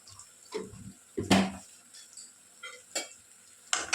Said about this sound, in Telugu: ఎండు కొబ్బరి పొడి వేసుకోవాలి